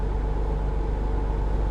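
Steady low car traffic rumble on a road, a continuous hum of engines heard from inside a vehicle, with no distinct passes standing out.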